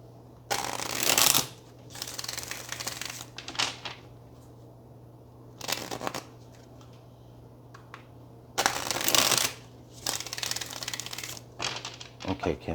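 Tarot cards are shuffled in several distinct riffling bursts with pauses between them, close and crisp, with a quiet steady hum in the background and soft talk in the gaps.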